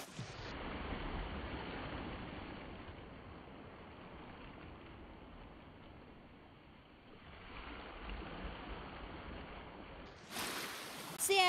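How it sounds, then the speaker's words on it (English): Sea waves crash and wash continuously along the Devon cliffs, a steady broadband roar that dips slightly midway, then swells again before a sharper burst near the end. "When we record the waves crash into slow motion."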